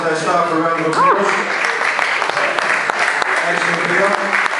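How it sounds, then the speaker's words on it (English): Bar audience at a talk event claps for brewery staff, a short, busy patter of applause mixed with loud overlapping chatter and a voice speaking over it. "Please give these guys and their staff a round of applause."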